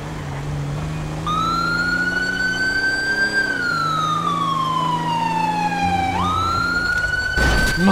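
Police car sirens wail in a GTA FiveM roleplay game: one loud, clear siren sweeps slowly up and down in long glides, with a low vehicle rumble underneath.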